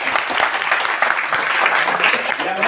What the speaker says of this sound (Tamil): நம்ம எல்லாரும் ஒரு பாராட்டு கைதட்டுங்க